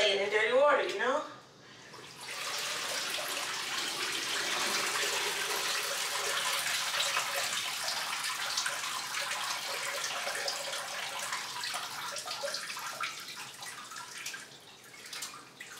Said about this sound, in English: At this point, I'm just playing in dirty water